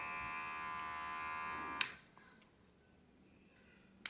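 A Nova NHT 1083 cordless hair clipper runs with a steady, close electric buzz for almost two seconds, then switches off with a click, and another sharp click follows in near silence.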